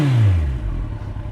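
Kawasaki ZX-14 motorcycle with an aftermarket exhaust revving, a loud close engine whose pitch climbs and then falls away into a lower rumbling idle.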